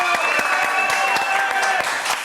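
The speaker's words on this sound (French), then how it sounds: "je vous demande d'applaudir très très fort" Studio audience applause on a French TV show, steady dense clapping with a few sharper claps standing out, close and fairly loud, with a tonal music bed running underneath.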